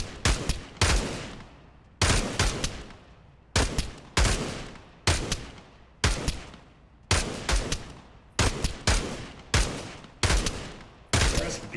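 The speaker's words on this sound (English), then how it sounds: "Shoot all the targets to continue." Repeated gunfire at targets in the VR shooter Pavlov Shack, about a dozen loud bursts of two or three shots each, coming at a steady pace roughly once a second with short gaps between, no talk.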